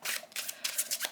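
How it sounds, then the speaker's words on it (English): Tarot cards shuffling in quick riffled bursts, soft and close, a crisp papery flutter repeating several times in about a second. "It shuffles like a dream."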